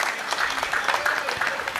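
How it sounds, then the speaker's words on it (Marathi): Applause for Praveen Sawant at a cricket premier league prize ceremony, dense sustained clapping from a crowd, loud and steady throughout. "मी ते जोरदार टाळ्या वाजवा यांच्यासाठी."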